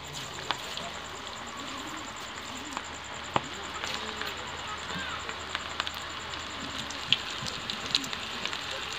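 Food frying in hot oil in a home kitchen: a steady low sizzle runs throughout, broken by scattered small pops and crackles, with a voice speaking over it.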